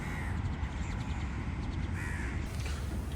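Crows cawing at a distance in Jeddah, a few harsh calls rising over a steady outdoor hum of wind and traffic.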